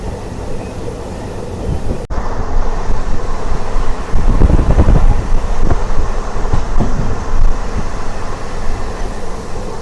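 A DEMU passenger train runs on the Secunderabad to Siddipet line, heard from on board as a steady loud rumble with wind buffeting the microphone and an abrupt jolt near the start. No one speaks.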